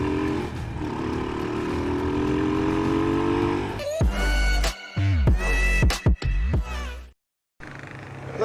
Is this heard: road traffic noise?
yes